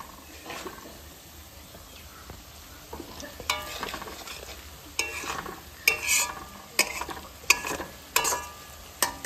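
Meat and garlic fry in oil in a pan, with a soft steady sizzle under a series of louder scraping and clattering stirs that grow busier toward the end.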